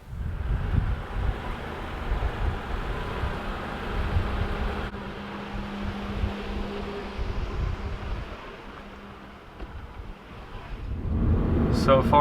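Car rolling along a road on a test drive after a seized brake caliper repair, a steady low rumble of tyres and engine with wind buffeting, under faint talk, building louder toward the end.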